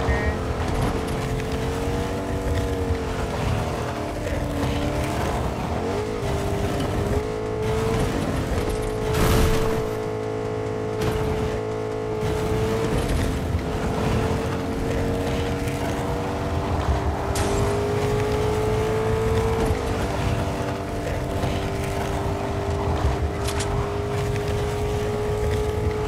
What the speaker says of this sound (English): Truck is pretty loud.